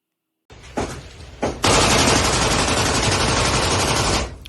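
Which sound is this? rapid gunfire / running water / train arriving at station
rapid gunfire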